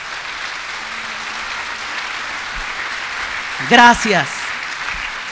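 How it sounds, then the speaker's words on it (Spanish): A church congregation at a Catholic prayer meeting keeps up a steady, fairly faint wash of applause, and a single voice speaks briefly over it partway through. "Un aplauso al Señor"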